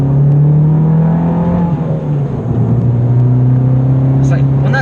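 A turbocharged Fiat Abarth car engine accelerating, its exhaust fitted with two silencers, giving a loud, steady, droning engine note that holds close and strong throughout, with a slight dip in pitch midway.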